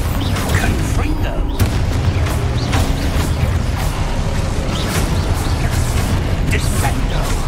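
A Confringo spell in the Hogwarts Legacy video game fires with a run of booming blasts and crackling impacts, layered over ongoing game noise and effects.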